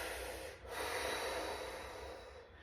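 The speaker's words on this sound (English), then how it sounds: "we're going to do the alternating breathing" Loud breaths come close to the microphone during an exercise class, with long airy inhales and exhales through mouth and nose and a short pause between them.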